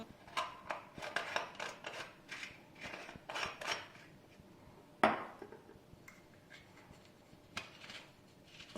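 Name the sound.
inserting sticks into watermelon kulfi moulds and covering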